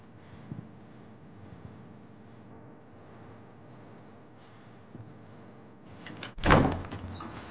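A door opens after a stretch of low, muffled room noise, ending in one loud scraping, rushing burst near the end.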